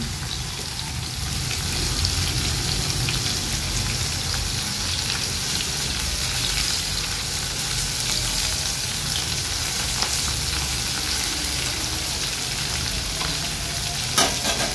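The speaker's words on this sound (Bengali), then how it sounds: "তো তেলের মধ্যে সব পনিরগুলো দিয়ে দিলাম।" Cubes of paneer frying in hot oil in a pan, giving a continuous close crackling sizzle that holds steady throughout, with a faint clink near the end.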